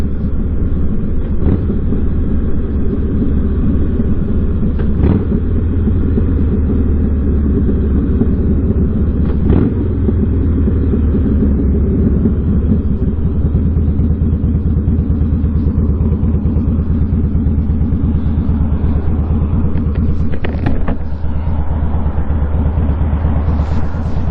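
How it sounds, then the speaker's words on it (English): A Harley-Davidson motorcycle engine runs steadily close by with a deep, continuous low rumble and no talk. "This bike sounds so good."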